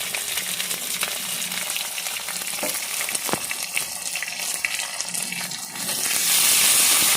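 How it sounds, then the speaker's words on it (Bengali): Tomato and green chilli frying for a samosa filling, a continuous close sizzle with occasional stirring scrapes, rising into a louder hiss near the end. "ভালোভাবে কিছুক্ষণ কষিয়ে নেব।"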